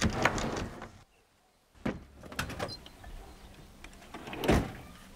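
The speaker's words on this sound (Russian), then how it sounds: "Чё ты дергаешь? Дверь и так на соплях держится." An old, loosely hinged wooden door being yanked and rattled, giving several sharp rattling jolts and knocks at close range with a short quiet pause between bursts.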